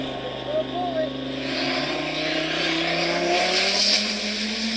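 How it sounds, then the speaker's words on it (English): A car engine revs at moderate distance, its tone climbing steadily in pitch under ongoing conversation, with people talking over most of the sound. "It's an absurd sounding car."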